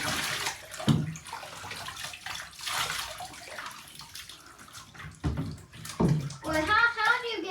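Water sloshing and splashing in a bathtub while a dog is gently bathed, with soft voices talking over the bursts of movement in the water.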